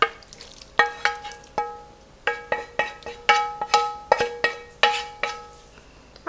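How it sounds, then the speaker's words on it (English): Cooked ground beef and onions scraped and tapped into a crockpot for a cheesy potato casserole, a run of sharp metal spoon knocks and clinks against the pot rim, irregular and close. "we're gonna go ahead now and add our meat and the onions that we already cooked"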